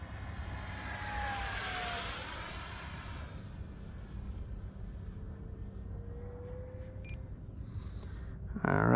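An RC plane fitted with a thrust tube makes a fast speed pass, its high whining motor sweeping down in pitch as it streaks past, then fading to a thinner distant drone before a sharp noise cuts in at the end.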